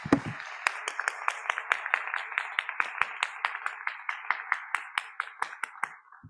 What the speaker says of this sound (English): please join me in a round of applause for all of the pitchers